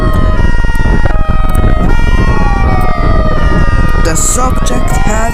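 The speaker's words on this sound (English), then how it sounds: "More police cars are heard." Police car sirens wail loudly and continuously in several overlapping rising and falling tones during a high-speed chase in Europe, with engine and traffic noise underneath and more sirens joining toward the end.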